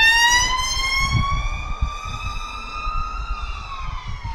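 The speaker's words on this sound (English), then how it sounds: "a police car." A police car siren wails steadily as the vehicle goes past, its tone sliding slowly in pitch, with rumbling traffic and engine noise underneath and no voices.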